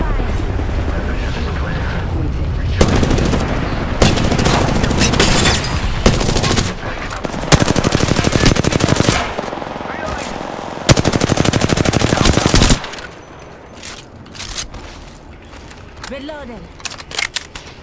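Loud, close bursts of rapid automatic gunfire in a video game, several sustained volleys separated by brief gaps, with players talking over the shooting before it fades to quieter game ambience.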